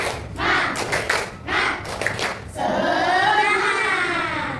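A classroom of students performs a rhythmic spirit clap, several quick bursts of clapping in a set pattern, then the group bursts into loud unison shouting.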